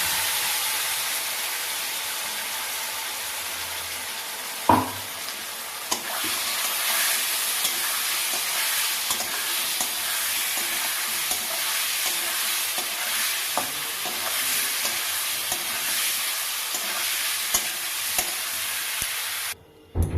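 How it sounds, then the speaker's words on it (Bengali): Potatoes and spice paste fry in a pan for a pomfret fish dish, stirred continuously. A steady close sizzle carries a few sharp scrape and clatter accents, with no voices. "আলুটা একটু ভাজা ভাজা হয়ে গেছে, এবার যে পেস্ট করে রাখা মশলাটা ছিল সেটা আমি দিয়ে দেবো"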